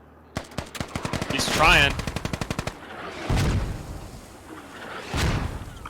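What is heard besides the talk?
50 cal machine gun firing in the video game Squad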